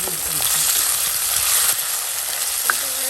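Tomato and curry leaves fry in oil with a dense, continuous hiss of sizzling, loud and near, and a faint clink of a utensil near the end.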